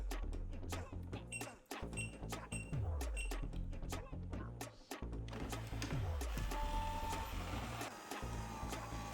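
A Conga 20090 ProAI robot vacuum cleans the rooms of a home, its motor and brushes running in a steady hum broken by repeated clicks and knocks as it bumps along, close and fairly quiet.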